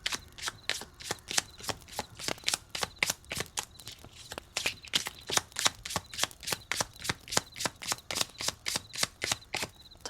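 Tarot cards are shuffled in quick, repeated riffling bursts, a steady rhythm of sharp crisp flutters close to the mic with no talking.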